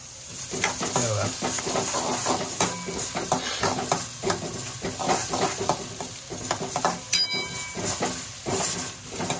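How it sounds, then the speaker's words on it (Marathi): Tomato and mixed vegetables stir-fry for a desi-style chicken chilli, a close sizzle broken by repeated scraping stirs in an uneven rhythm, with a faint bird call in the background. "सगळ्या भाज्या एकत्र घालायच्या सगळ्या अशा. चांगलं परतून घ्यायचं."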